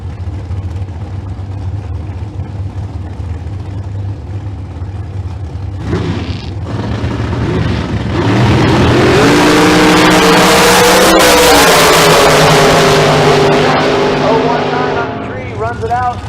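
A green and black dragster races down the Famoso Dragstrip at a bracket race, its engine roar building to a loud, sustained blast that peaks and then fades, with an announcer talking over it.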